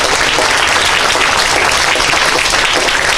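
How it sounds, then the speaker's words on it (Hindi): Steady, dense applause from an audience, loud and close, sustained without pause. "ताली बजाइए इनके लिए थोड़ा सा।"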